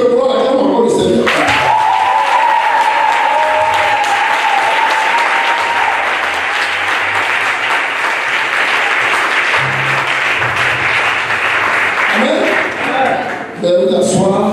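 A church congregation at a baptism and disciples' graduation ceremony bursts into loud, sustained applause that lasts over ten seconds, with cheering voices mixed in and a held tone early on.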